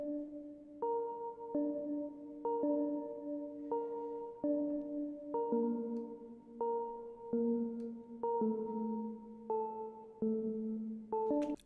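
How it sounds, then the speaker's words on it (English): A soft synthesized sine-wave pluck melody with clean, bell-like tones, steady rhythmic notes stepping through a simple tune, alone and fairly quiet. "Next up, I have a nice little sine pluck melody."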